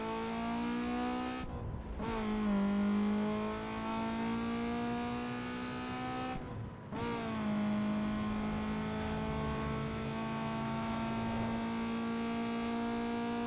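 A car engine in the street-racing video game Need for Speed Underground 2 holds a steady, buzzing drone, with two brief drops and rises in revs partway through, heard alone and fairly loud.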